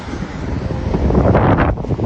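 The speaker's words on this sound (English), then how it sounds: "very windy outside" Strong wind blows outdoors during April hail and graupel showers in New Jersey, a loud rough gusting roar buffeting the microphone that swells toward the middle and dips briefly near the end.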